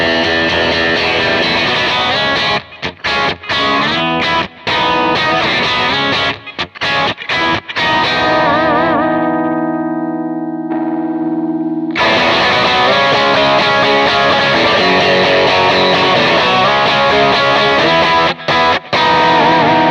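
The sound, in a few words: electric guitar through Vox AC30 amp thickened with EQ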